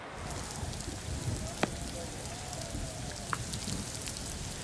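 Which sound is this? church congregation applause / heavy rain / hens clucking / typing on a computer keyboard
heavy rain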